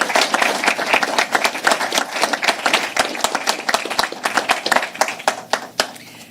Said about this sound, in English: Give a round of applause for our Secretary of Health and Services.